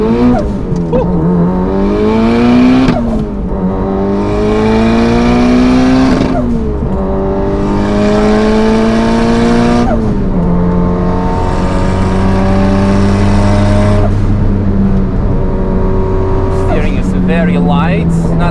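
Mitsubishi Lancer Evo race car with an external wastegate and all-wheel drive lapping the Nürburgring, the engine loud and close as it revs up through gears in repeated rising sweeps, each cut off by a shift, with no one talking.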